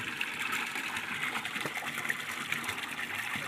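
Well water running from a pipe, a steady gushing stream of water pouring continuously at close range, even and unbroken with no voices over it.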